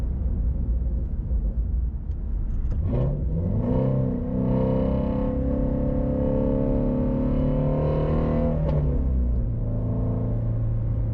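The Voodoo engine of a Ford Shelby GT350R idles low, then revs sharply upward, holds a high, loud howl for several seconds, and drops back abruptly to a rumbling idle, with no voices.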